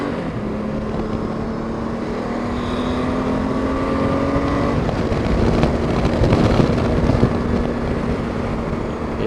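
A Gen6 Honda Goldwing motorcycle accelerates on a highway, its engine note climbing steadily under heavy rushing wind noise that builds louder toward the middle.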